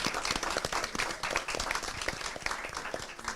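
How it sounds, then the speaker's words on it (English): Attendees at a North Little Rock school district board meeting give the honorees a round of applause, many hands clapping in a dense, steady patter that holds at moderate loudness, with faint voices underneath. "So let's give them all a round of applause."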